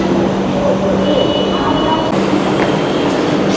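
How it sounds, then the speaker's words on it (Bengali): Jammu Tawi Express at a railway platform, a loud, steady rumble of the train with a faint tonal whine and a shift partway through, under platform noise and voices. "এইটা হচ্ছে জম্মু তাওয়াই এক্সপ্রেস"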